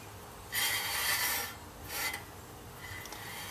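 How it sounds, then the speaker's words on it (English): The rear brake of a 2004 Volvo XC90 grinds against a bent dust shield in two quiet rasping scrapes, the first longer than the second, followed by fainter rubbing. "that grinding that you hear, because I bent this dust shield"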